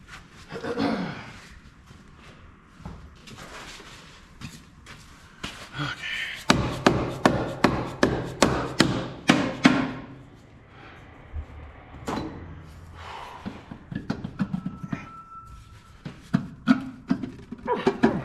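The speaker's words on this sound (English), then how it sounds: "Let me grab a rubber hammer." A rubber hammer strikes a car part during a repair, giving a quick run of sharp knocks followed by scattered taps, with shuffling and handling noises around them.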